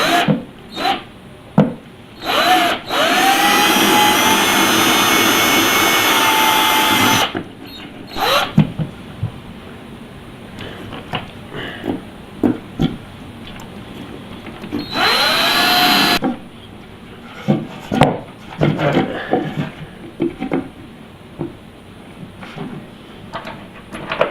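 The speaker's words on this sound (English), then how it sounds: "alright, drill." A power drill whirs in two sustained bursts, one long and one short, with scattered knocks, scraping and handling noises between them, while building a box for an attic stove vent.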